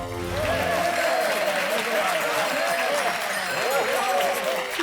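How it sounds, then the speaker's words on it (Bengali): An audience claps steadily and loudly to welcome a children's play about Humpty Dumpty, with dense sustained applause from a crowd throughout. "জোরে হাততালি দিয়ে স্বাগত জানান হামটি ডামটিকে।"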